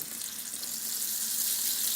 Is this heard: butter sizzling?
yes